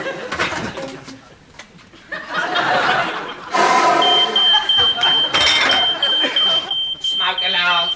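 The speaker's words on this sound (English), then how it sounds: "Smoke alarm." A high, piercing smoke alarm beeps continuously over several seconds, with people laughing and chattering loudly around it.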